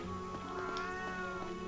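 A cat meows in the video game The Last Story, a short plaintive call over a steady tonal music bed, moderately quiet.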